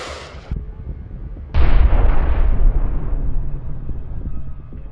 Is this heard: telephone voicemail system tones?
no